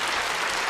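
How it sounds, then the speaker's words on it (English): A brief, steady burst of audience applause for volunteers called up on stage at a Penn & Teller Fool Us taping, dense and even throughout. "So a round of applause for our volunteers"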